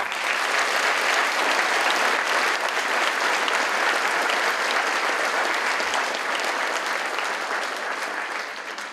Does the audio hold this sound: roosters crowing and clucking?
no